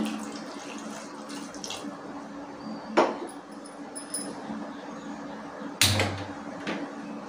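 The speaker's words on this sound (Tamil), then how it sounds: "இப்போ தண்ணி சேர்த்துருவோம்." Tap water runs steadily into a pressure cooker holding sambar dal, a continuous pour with a couple of sharp metallic clanks from the vessel partway through.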